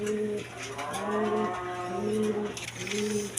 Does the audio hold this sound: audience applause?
no